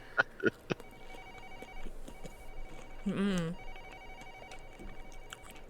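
In the Collar x Malice visual novel, office telephones ring in short electronic trills amid background clicks and a brief voice, fairly faint and sparse in a quiet workplace scene.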